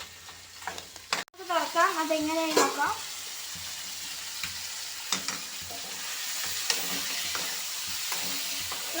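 Sliced onions sizzling as they are sautéed in a pan for a crab curry, a steady close frying hiss with occasional stirring clatter, while someone speaks over it at the start.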